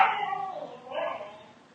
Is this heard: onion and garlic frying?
no